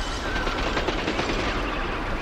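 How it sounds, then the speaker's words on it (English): Faint, distant bursts of rapid gunfire crackle continuously in the background of the video game Atomic Heart, like automatic weapons. "I can hear in the background just faint gunfire."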